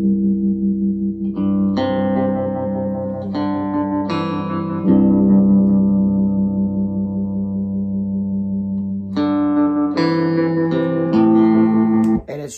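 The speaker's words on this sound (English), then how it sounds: "So we did a baritone guitar to kind of do the lead licks, which is cool." Baritone guitar playing lead licks over a second verse, with effects and echo: picked notes and slides ringing into long sustained tones, loud and close with no talking.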